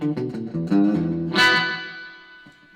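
Gretsch G5420 electric guitar played with delay and reverb, a few plucked notes followed by a bright strum that rings out and trails off into a fading wash of echo.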